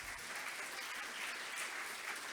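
Audience applause at a talk on what parents and professionals learn from each other, a steady, fairly faint wash of many hands clapping without voices.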